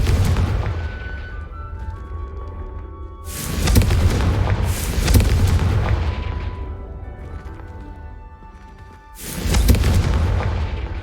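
Confringo spell explosions in the video game Hogwarts Legacy: three heavy, booming blasts, each with a long rumbling decay, the first two close together and the third after a short lull.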